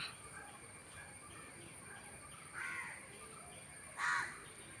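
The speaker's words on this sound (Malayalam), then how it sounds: "എല്ലാ കൂട്ടുകാരെയും കാക്കയും വിരുന്ന് വിളിക്കുന്നുണ്ട്" Two faint, distant crow caws separated by a pause, against a steady hum of insects outdoors.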